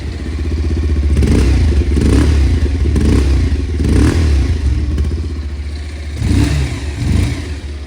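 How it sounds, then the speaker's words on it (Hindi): Close, loud engine note of a Bajaj Pulsar 180 motorcycle idling, with periodic throttle blips swelling and dropping back every second or so and a mechanical clatter underneath. "ये 180 का साउंड है।"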